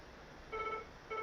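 A telephone gives two short electronic rings, each a brief bright tone burst about half a second apart, fairly clear against quiet background with no voices.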